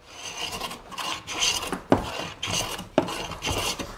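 Hand plane shaving along a pen-marked wooden board, rhythmic rasping strokes roughly one per second, each ending in a sharp knock, close and clear with no talking.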